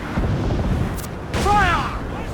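Ship cannons in Assassin's Creed IV Black Flag boom in a rumbling, distant-sounding volley amid naval battle noise, with shouted voices over it.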